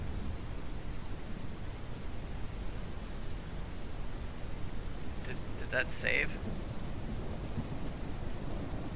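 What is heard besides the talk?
rain in the video game Ranch Simulator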